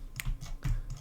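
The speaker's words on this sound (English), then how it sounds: "You can also use your arrow key on your keyboard" Arrow keys pressed on a computer keyboard, several soft clicks in an irregular rhythm, close and fairly quiet with no talk.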